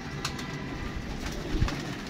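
Pigeons coo close by in soft, low, throaty bursts, a few rolling calls over a faint background hum.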